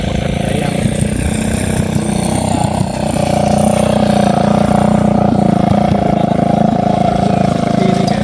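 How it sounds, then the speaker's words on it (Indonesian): A loud modified motorcycle engine drones steadily nearby at a rubber factory, idling with a rough, continuous rumble and slight revs. "ada suara-suara motor para pekerja"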